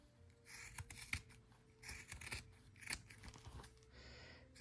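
Scissors cutting the corners of fabric for machine-embroidered bowl fillers, with several bursts of crisp snipping and slicing close by and short pauses between cuts.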